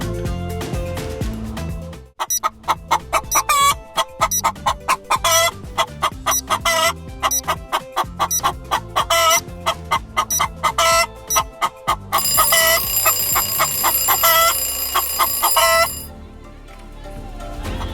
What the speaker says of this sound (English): It's a chicken.